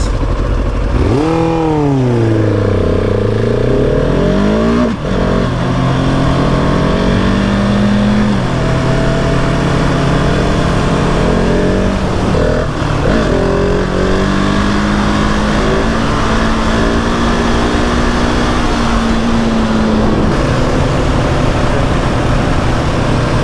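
A Yamaha R6 sport motorcycle, an early-2000s model, roars loudly and continuously up close, its engine pitch sweeping up and down as it revs and shifts while riding past.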